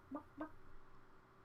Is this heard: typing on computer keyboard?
no